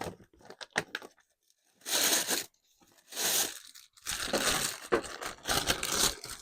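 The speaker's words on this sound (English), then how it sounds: "I'm looking for some crinkly paper." Crinkly paper is crumpled and torn in several loud, crackling bursts separated by short pauses, close up and with no talking.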